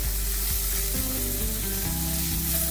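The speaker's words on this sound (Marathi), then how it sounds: "चिरून घेतलेला कांदा टाकून छान परतून घेऊया." Chopped onion sautés in a pan for homestyle cabbage bhaji, giving a constant close hiss and sizzle with no voices.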